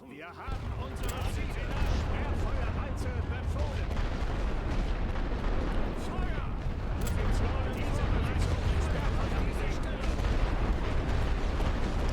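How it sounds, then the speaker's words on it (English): Massed artillery barrages in The Great War: Western Front, a First World War strategy game, form a continuous loud rumble of overlapping booms and crackling shell bursts that lasts throughout, while someone talks over it. "And we'll just hit them with artillery."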